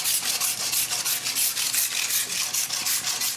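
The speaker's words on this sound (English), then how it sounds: "the first tool at hand will be the big handsaw" A big handsaw cuts through an ice sculpture block in quick, rhythmic rasping strokes, about a dozen back-and-forth scrapes, close and loud.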